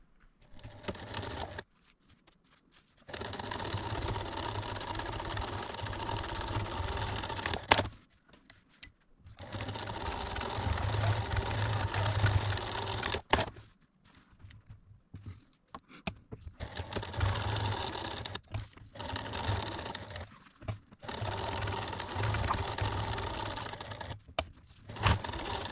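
A sewing machine stitches quilting through a fabric potholder in several bursts of steady, close, rapid running, separated by short pauses of near silence.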